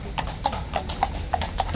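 A horse walks away on hard pavement during the King's Guard duty in London, its hooves clip-clopping in a steady even rhythm of about six strikes, clear and moderately close over a low outdoor hum.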